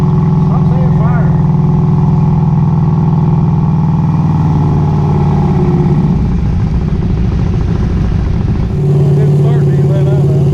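A turbocharged tunnel ram engine runs on a street dyno at about 4 pounds of boost, with its turbo spitting oil. A loud, steady mechanical drone holds throughout, its pitch shifting near the end, while people talk over it.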